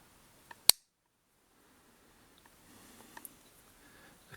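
A Victorinox Hunter Pro M Alox folding knife locks shut with one sharp, close click, followed by fainter small clicks and handling noise.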